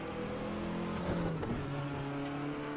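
An LMP2 prototype race car in the Raceroom sim racing game accelerates at Paul Ricard out of the last corner onto the main straight, its engine rising steadily in pitch and droning continuously.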